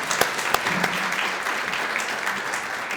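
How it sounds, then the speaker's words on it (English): An audience at a Wadsworth Chamber event applauds, a dense steady wash of clapping from many hands with a few sharper individual claps standing out. "round of applause there"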